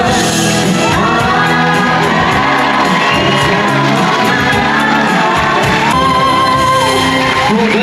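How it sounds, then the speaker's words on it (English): A cruise ship lounge audience cheers, shouts and whoops loudly and continuously, a dense crowd roar with high voices rising and falling throughout. "give me a quick cheer"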